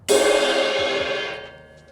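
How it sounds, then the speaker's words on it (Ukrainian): A single cymbal crash rings out bright and shimmering, then decays over about a second and a half. "Наприклад, ось в мене така амплітуда, і тарілка звучить ось так."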